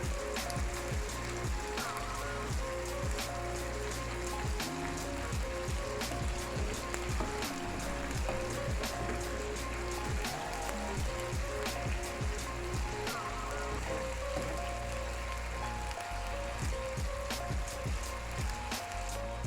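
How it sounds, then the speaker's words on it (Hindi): Chicken frying in oil and butter on a hot tawa, a constant close sizzle and crackle with scattered spatters and the occasional clink of a utensil, steady throughout. "अभी मैं इसको चिकन को 5 मिनट के लिए इसमें ऑयल में और मक्खन में अच्छी तरह फ्राई कर रही हूँ"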